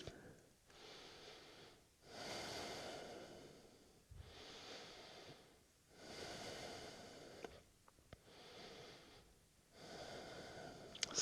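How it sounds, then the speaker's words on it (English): Slow, deep breathing during a vinyasa yoga pose: long, airy inhales and exhales in regular cycles of about two seconds, close and fairly quiet, with no talking. "Take a moment to breathe."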